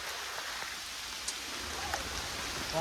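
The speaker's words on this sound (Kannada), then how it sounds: "ಭಾಳ ಮಳೆ ಬರ್ತೈತೆ" Rain falls steadily on a trekking trail toward Dudhsagar waterfall in Goa, a soft even wash of patter with a few sharper drops, faint and continuous with no voices.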